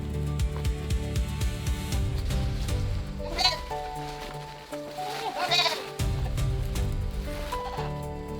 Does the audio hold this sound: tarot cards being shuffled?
no